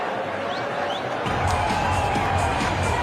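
A cricket stadium crowd at the 2011 World Cup match between India and Bangladesh swells into loud, sustained cheering and clapping, a dense roar that rises partway through and holds.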